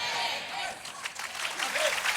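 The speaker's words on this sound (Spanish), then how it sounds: "Le doy un aplauso." A church congregation breaks into a short burst of applause, a dense wash of clapping lasting about two seconds.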